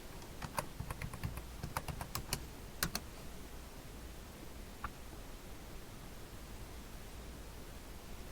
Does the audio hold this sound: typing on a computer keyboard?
yes